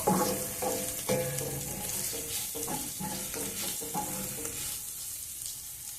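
Cauliflower cooking in oil in a pan, a moderate sizzle with clattering stirs and scrapes in the first few seconds, easing into a softer, quieter hiss toward the end.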